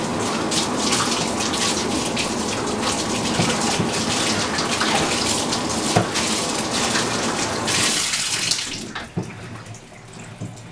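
Parts of an M40 gas mask are rinsed under a running tap, making a steady close gush of water that lasts about eight seconds and then stops, leaving scattered drips and light handling sounds.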